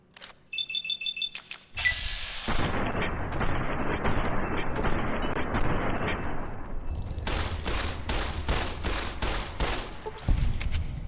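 SMG gunfire in Fallout New Vegas comes as a sustained, loud rapid-fire stretch, then a run of distinct, evenly spaced shots, with electronic beeps and tones at the start.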